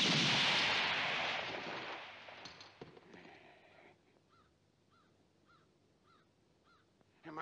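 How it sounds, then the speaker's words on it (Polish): A loud gunshot booms and rolls away in a long echoing decay. Faint crows caw a few times in the quiet that follows. "Bardzo dobre strzały"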